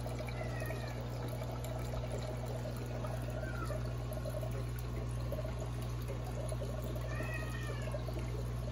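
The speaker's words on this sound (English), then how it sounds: "The cat in the background is Sherlock." Near an aquarium with trickling water and a steady low hum, a cat meows faintly in the background, two drawn-out whining calls a few seconds apart.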